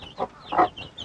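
A hen in a coop gives a few soft, nearby clucks spaced across a short moment, with quiet pauses between them.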